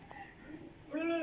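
A breeder's high-flying pigeon gives a soft, brief coo near the end, close by and fairly quiet over faint background noise.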